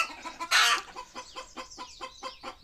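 Desi chickens on a backyard farm clucking in short, repeated bursts, with one louder squawk early on, close and clear with no talk over them.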